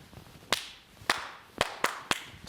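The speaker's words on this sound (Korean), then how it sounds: "자, 다시 박수 다섯 번 시작." A group in a dementia-prevention exercise session claps together on cue: sharp, distinct unison claps spaced roughly half a second apart, ending in a quicker cluster, loud against a quiet room.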